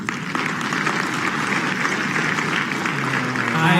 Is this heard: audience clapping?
yes